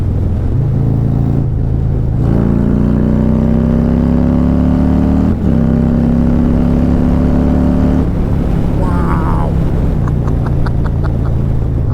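A Harley motorcycle with a 131ci Stage 4 crate engine, in sixth gear at about 2,500 RPM on a test ride, gives a loud, close, deep exhaust rumble that rises as it accelerates, dips, then settles into a steady drone.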